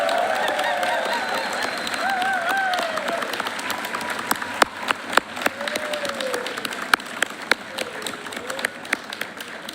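A white coat ceremony crowd gives steady, moderately loud applause, dense clapping with a few sharper claps standing out and faint voices underneath.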